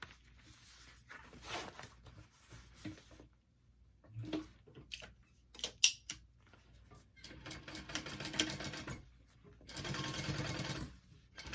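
A sewing machine top-stitches a handbag lining in several short bursts of rapid mechanical whirring and ticking, with pauses between runs and a longer steady stretch near the end, close and fairly quiet.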